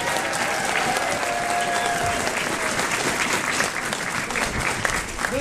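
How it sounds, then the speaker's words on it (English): An audience at a library branch and historical center's grand opening breaks into loud, sustained applause, a dense wash of many hands clapping close by with no pauses. "Have a round of applause for the great staff."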